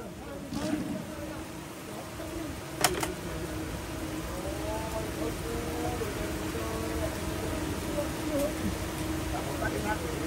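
Steady rain patters on a surface at a fishing pond, a continuous wash of drops with faint voices murmuring in the background.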